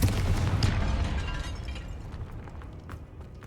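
A spell blast in Hogwarts Legacy, the Confringo fire curse, bursts with a broad rumbling boom that slowly fades over a few seconds, with no voice over it.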